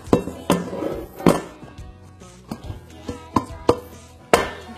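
A metal saucepan is struck like a drum in an uneven series of sharp, hollow whacks, some spaced out and some in quick pairs, loud and close with nothing else around.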